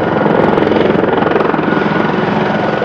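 A US Army helicopter flies close and loud, its rotor beating in a steady rapid chop over a broad engine roar.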